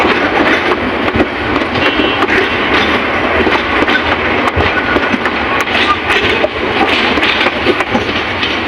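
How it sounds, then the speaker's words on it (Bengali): A train departing Gafargaon railway station for Dhaka rumbles steadily along the rails with continuous clattering and scattered sharp clicks, loud and close throughout, no voices. "ঢাকার উদ্দেশ্যে গহরগড় রেল স্টেশন থেকে ট্রেনটি ছেড়ে দিল"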